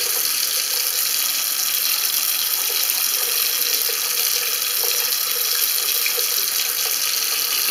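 Water runs continuously down a freshly unclogged bathroom washbasin drain, a steady close splashing rush with no pauses.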